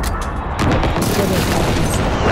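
A precision airstrike in a first-person shooter game lands as a burst of heavy booms and rapid gunfire, loud and close, with a player's voice talking over the blasts.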